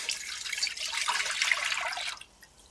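Vegetable broth, made from a litre of water mixed with powdered vegetable stock, pours steadily into a cooking pan with a continuous splashing trickle for about two seconds before stopping abruptly.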